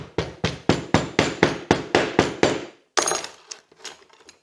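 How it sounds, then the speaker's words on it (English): A hammer compresses clay packed into a sand casting mold for a mixed metal ring, striking about ten times in an even, firm rhythm before a few lighter scraping taps. "put just a big old handful on top of that and compress it with a hammer"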